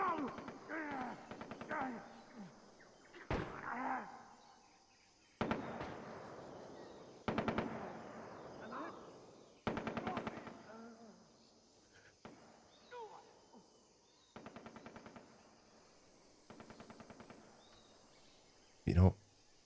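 Bursts of rapid gunfire from Far Cry 3, repeating every couple of seconds, fairly faint and distant with sharp single shots between.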